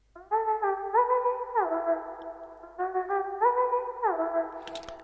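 A bright Serum synth patch plays an intro melody with effects, sustained layered tones gliding between notes in a steady phrase, loud and alone, with a brief noisy burst near the end.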